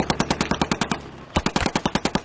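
Rapid rifle fire in a video game duel, about twenty sharp evenly spaced shots in two bursts separated by a brief pause, loud and close with no talking.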